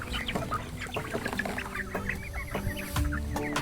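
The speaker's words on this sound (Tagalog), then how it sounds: "Mukha namang natutuwa ang mga manok natin sa bago nilang environment" Free-range chickens cluck on a pasture, with many birds giving overlapping, scattered clucks and calls at close to middle distance and a light background hum.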